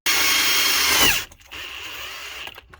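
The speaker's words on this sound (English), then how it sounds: "use some 5/16 self-tap screws here to mount these relays in" A power drill drives 5/16 self-tapping screws to mount relays in a heat pump HVAC unit: one loud, close, high whine for about a second that cuts off, followed by quieter mechanical whirring.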